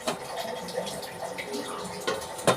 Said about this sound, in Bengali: দেখে নিন বেশি জল দিলাম না